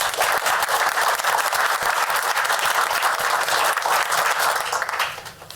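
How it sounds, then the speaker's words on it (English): Steady applause from a city council meeting audience honoring a council member's service, dense continuous clapping filling the room, loud and sustained before tapering off at the end. "Mr. Lawley, would you stand so that we can applaud you for your service?"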